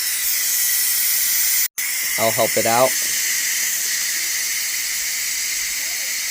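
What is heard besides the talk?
steam hissing out of a steamer after cooking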